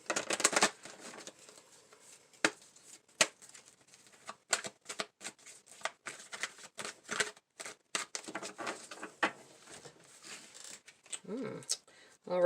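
Oracle cards, a Queen of the Moon deck and a Wisdom of the Oracle deck, shuffled close up in a series of quick crisp riffling snaps and soft papery slides, alone without talk.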